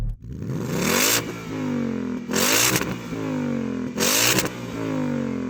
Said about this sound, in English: Go on, rev up the V8